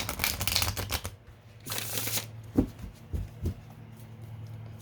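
Tarot cards being shuffled by hand at close range, bursts of riffling and rustling followed by a few soft taps and flicks as the deck is handled.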